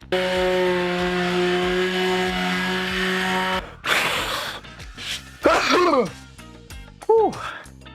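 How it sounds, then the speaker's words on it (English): Electric angle grinder shaping wood for a medieval folding chair: a steady loud whine for the first few seconds, then stops, followed by short bursts of knocking and speech in the workshop. "or with my trusty little electro grinder"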